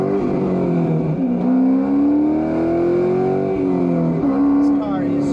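A Corvette, a salvage-title street-legal race car, drives with its top up, its engine note rising and falling steadily at close range throughout, with a brief rev swell toward the end; a voice is also present over the engine.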